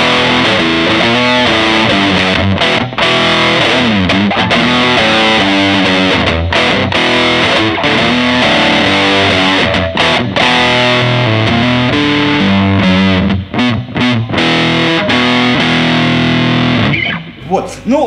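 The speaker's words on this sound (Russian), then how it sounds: "теперь драйв у нас будет лид-канал номер один Mesa" Yamaha SA-900 Super Axe electric guitar played through the Mesa lead channel one drive, loud and heavily distorted. Fast, busy riffs and sustained notes run continuously for about eighteen seconds before cutting off near the end.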